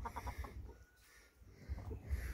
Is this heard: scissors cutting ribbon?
no